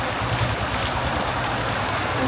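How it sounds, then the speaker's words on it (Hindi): Heavy rain pours down at night, a steady dense hiss of drops striking surfaces that stays loud and unbroken from start to finish, with no voices. "चलिए फिर देखते हैं अभी कितने समय के बाद ये रुकती है बारिश"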